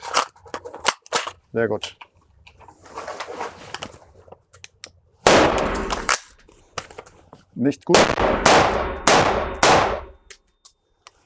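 Sharp, loud gunshots ring out during firearms shooting training with a special-forces instructor, several spaced cracks followed by a denser burst of shots, with people speaking between them.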